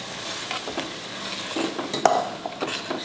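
Egg curry with turmeric and tomato puree is stirred in a pan, with soft scraping strokes, a quiet simmer and a sharp clink of utensil against metal partway through.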